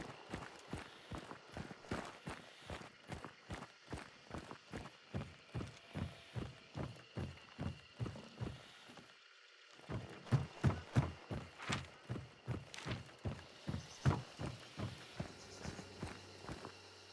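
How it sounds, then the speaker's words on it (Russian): Horse hooves in the game Hunt: Showdown, a long run of regular, evenly spaced thuds like a trotting gait, briefly cutting out midway before resuming with slightly louder, sharper beats. "Палевая лошадь"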